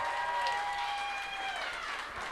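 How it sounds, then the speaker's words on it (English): Audience at a wrestling event applauding, a dense wash of clapping and crowd noise heard from within the venue, steady for a couple of seconds, with a few faint voices mixed in. "Well-deserved round of applause"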